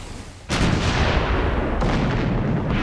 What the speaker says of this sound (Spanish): El Emden se acerca aún más y luego dispara 125 cañonazos.